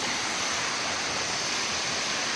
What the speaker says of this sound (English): Another beautiful waterfalls.